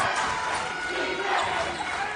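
Basketball arena crowd roaring for Arizona in a third-place tournament game, a loud, sustained wash of cheering and shouting with no break.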